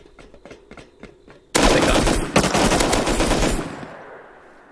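Loud, close bursts of automatic gunfire in the survival game Rust at an oil rig, a sustained rattling volley starting abruptly after quieter background sounds, with a sharp extra shot partway through before it fades.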